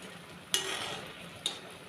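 Boiling mango rasgulla sweets in a pot being stirred, with two short scraping clinks of a spoon against the pot over a soft steady bubbling hiss.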